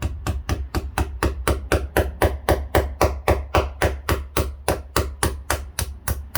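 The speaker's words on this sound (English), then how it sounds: "so just get your hammer." Steady, rapid hammer blows tapping a 16mm wall anchor bolt into place, around three strikes per second, evenly spaced and close, continuing without pause.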